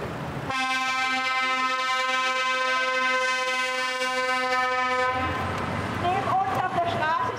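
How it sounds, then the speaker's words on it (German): A car horn blares in a long sustained honk on a city street during a protest, loud and close for about four seconds before giving way to street noise and overlapping voices. "Wenn gehupt wird"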